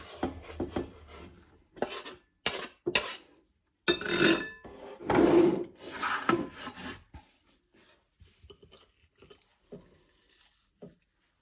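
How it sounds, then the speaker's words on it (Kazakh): A knife slices boneless chicken fillet on a board in irregular bursts of rough, scraping cuts separated by short silences, the strokes fading to faint taps toward the end. "Енді етімізді тураймыз."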